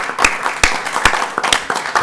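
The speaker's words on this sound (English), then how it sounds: "I like to give them a round of applause" A small group at a city council study session claps for council volunteers, a few distinct, fairly loud claps spaced out unevenly over two seconds in a meeting room.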